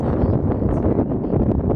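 Low, rumbling wind buffeting the microphone, a constant roar with no voices.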